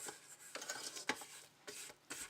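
A spatula scrapes thick chocolate biscotti batter down the sides of a mixing bowl in a kitchen, making several short rubbing and scraping strokes, close and fairly quiet, with no talking.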